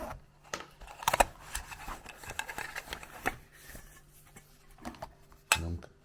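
A small camping mess tin is handled, with scattered metallic clinks and taps, some sharp and close, separated by quiet gaps.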